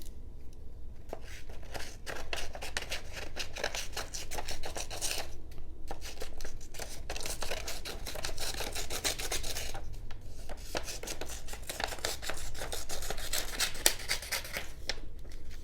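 Repeated scraping, rasping snips of the scissors on a Rocktol SK05 multi-tool cutting through material, coming in quick uneven bursts with short pauses, close up and without speech.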